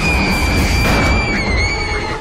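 Someone lets out a loud, sustained high-pitched scream in the film Spider-Man 2, a piercing shriek over a roaring, crashing action backdrop for the full two seconds.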